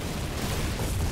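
A mortar tank fires in the Foxhole video game, producing a heavy, muffled booming blast that fills the short moment with dense low rumble.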